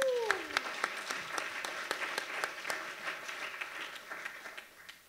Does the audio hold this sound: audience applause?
yes